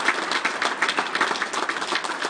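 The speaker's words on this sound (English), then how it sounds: "Give Steve another big round of applause." An audience claps for Steve, a turkey caller of some 35 years, after a senior calling contest. Dense, even applause from many hands fills the space steadily without a break.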